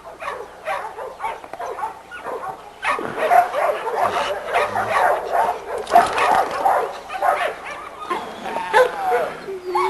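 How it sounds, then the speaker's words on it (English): In a dog yard, a chained dog keeps up close, busy barking mixed with yips and whimpers, with other dogs joining in the background and some talking underneath. "But this is a very fine dog right here"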